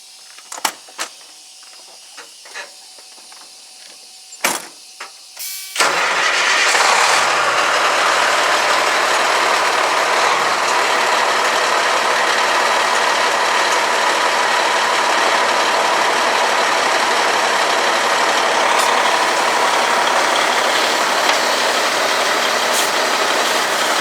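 A semi truck engine cranks after a few mechanical clicks, then a loud, steady, close roar as the rig pulls out slowly in low gear while dropping a trailer.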